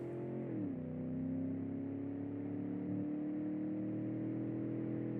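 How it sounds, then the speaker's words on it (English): A V8 engine in a 2005 makeshift school bus climbs a hill in a driving video game with differentials locked, a steady droning roar whose pitch drops briefly as it labors, then holds. "nothing better than a good old V8 up the hill here"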